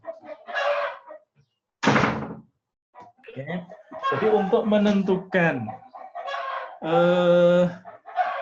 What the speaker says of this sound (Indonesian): waduh nih ayam saya ramai banget